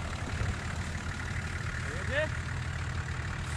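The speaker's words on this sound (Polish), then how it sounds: "Tutaj Nissan Patrol. Silnik TD42." Nissan Patrol with a TD42 diesel engine idling steadily nearby, a low, even rumble with a brief higher squeak partway through.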